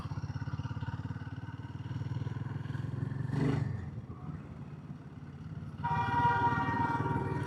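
A Royal Enfield Himalayan 450 motorcycle rumbles steadily at speed past a highway toll, its engine close and continuous, with a brief horn or passing vehicle and the engine note rising again near the end.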